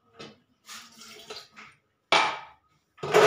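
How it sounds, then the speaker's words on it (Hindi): About 200 ml of water is poured into a thick homemade protein shake, giving a few short splashy bursts with quiet pauses between, close and fairly loud, with no talking. "ये थोड़ा सा गाढ़ा हो गया इसलिए मैं इसके अंदर इतना पानी डाल रहा हूँ"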